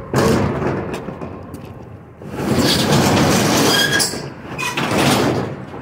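A metal roll-up door on a 10 by 10 storage unit rattles and scrapes open in a long, loud, grinding roar with squealing edges, surging again midway as it is pushed higher.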